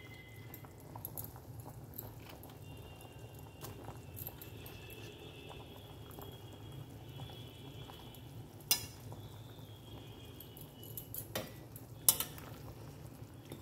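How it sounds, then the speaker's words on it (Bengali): Red lentil fritters going into a simmering masoor dal broth in a kitchen, a low steady bubbling under a few sharp clinks of a utensil against the pot, with no talk. "এবার আমি কিন্তু এই বড়াগুলো যোগ করে দেবো এর মধ্যে।"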